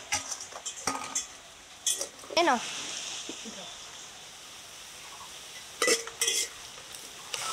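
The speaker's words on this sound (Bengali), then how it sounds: "এর উপরে মাখানো মাংস দেব।" Marinated chicken goes into a pot of fried onions with ginger, whole cumin and garam masala, giving a few metal spoon clinks and a soft sizzle of stirring, with someone speaking briefly over it.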